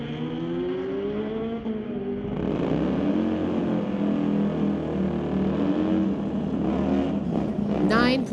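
Kawasaki 1400R motorcycle at a street-legal drag race, a loud sustained engine roar that climbs in pitch as it accelerates, with a commentator talking over it.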